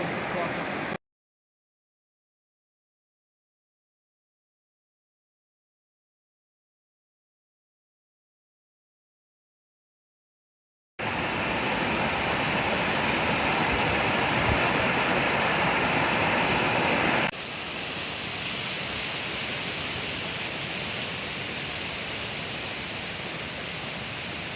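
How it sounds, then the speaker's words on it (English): Creek running high with June spring runoff from the mountains, a broad steady rushing roar that appears after a long silent gap, loud at first, then a little softer and duller. "The creek is running actually really high."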